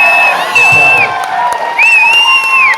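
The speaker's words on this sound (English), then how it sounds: "give yourselves a round of applause for coming out on a Wednesday night here in beautiful" Audience at a Pauly Shore stand-up comedy show in Cine El Rey, McAllen, Texas, cheers loudly and up close, with sharp whistles rising over a roaring crowd.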